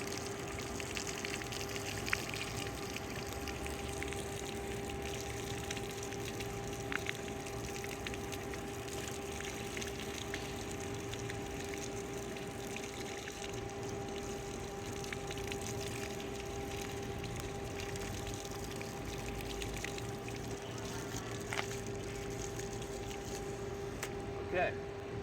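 Water from a hose sprays steadily to rinse cleaning solution from a cotton air filter, a continuous hissing wash with a faint hum beneath and occasional small clicks.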